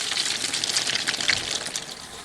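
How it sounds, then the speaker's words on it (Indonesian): Batter poured into a frying pan gives a steady, close hiss of running liquid and sizzle that holds evenly for about two seconds, with no talking. "Aku tuang semuanya dan supaya lebih lebar aku tuang ke sampingnya juga seperti di video."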